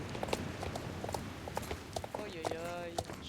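Hooves of a nervous horse clip-clop in a video game, a quick run of light, evenly spaced taps at low volume with brief faint voice-like sounds near the end.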